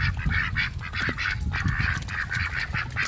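Repeated duck quacks, loud and near, several birds by a small pool calling in quick overlapping bursts with soft background noise.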